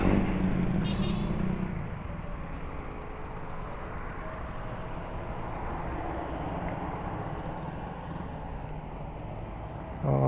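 A Samurai 155i V2 motorcycle engine running low on fuel during a one-liter gas test, a steady close rumble that holds throughout with a brief louder burst at the start and end.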